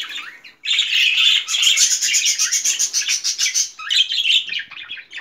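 Several budgerigars in a breeding nest chirp and squawk in dense, continuous bursts, loud and close, with a short pause near the start and another near the end.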